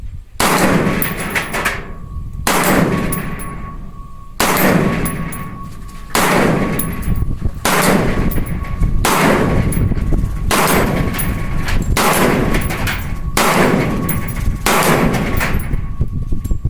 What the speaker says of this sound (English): take a couple of shots here at the bench, see if everything's functional. Then we're going to maybe just rapid fire